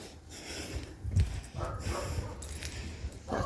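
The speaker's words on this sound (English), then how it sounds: "I've got a dog barking next door to me in my bedroom." A dog barking next door, heard from inside a bedroom, comes through as a few muffled, moderately loud bursts over steady background noise, with one stronger bark standing out partway through.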